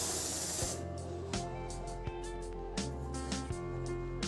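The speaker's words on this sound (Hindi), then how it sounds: "तो मैं इसको यहाँ पे स्प्रे करने वाली हूँ।" Dove women's deodorant spray can, a loud burst of pressurized hissing spray that stops abruptly, followed by quiet clicks and small handling knocks, close up with no talk.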